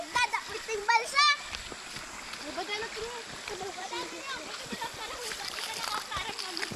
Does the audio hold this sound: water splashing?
yes